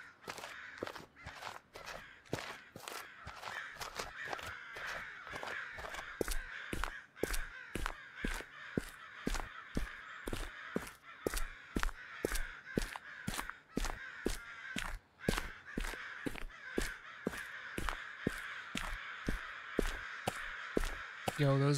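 Crows caw over and over in a steady, evenly spaced rhythm in the horror game Chilla's Art Okaeri, loud and close, with a continuous ambient drone underneath.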